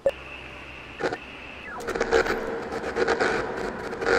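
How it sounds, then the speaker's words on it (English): A tuned radio in the Oxenfree game crackles with static, then breaks into rapid, irregular electronic beeping like a Morse code signal, loud and close over a hissy background. "Some Morse code."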